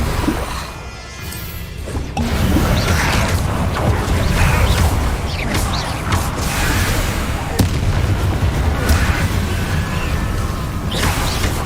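Blasting Confringo spell from Hogwarts Legacy, a fiery magical burst with booming impacts and crackling debris sustained over several seconds of combat, loud and close, with a voice speaking over it.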